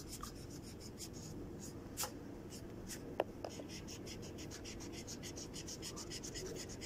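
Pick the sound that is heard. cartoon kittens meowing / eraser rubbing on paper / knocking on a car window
eraser rubbing on paper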